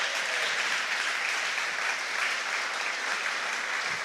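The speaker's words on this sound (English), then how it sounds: "Could you kindly give them another round of applause?" Audience applause for a panel discussion at a forum, a dense, steady wash of clapping from a sizable crowd that continues evenly throughout without speech.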